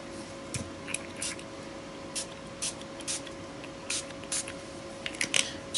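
Glimmer Mist purple spray ink misted onto a canvas journal page in short, sharp hissing bursts, about a dozen quick sprays spaced irregularly over a faint steady background hum.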